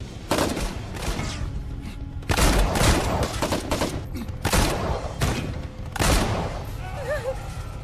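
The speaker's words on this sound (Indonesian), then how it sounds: "Ia bahkan menggunakan dua senjata sekaligus hingga area pabrik kini menjadi medan pertempuran" Bursts of rapid gunfire ring out in a factory battle from the action film Topakk, several loud volleys in quick succession with dense cracking shots and echoing thuds, under a voice narrating.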